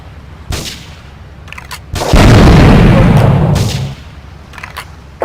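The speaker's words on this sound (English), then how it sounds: "Investigate reports of gunfire and explosions." Loud booming gunfire and explosions from the video game GTA 3, with sharp bursts followed by a sustained, roaring blast lasting a couple of seconds.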